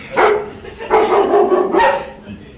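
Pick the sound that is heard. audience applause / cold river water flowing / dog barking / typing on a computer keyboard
dog barking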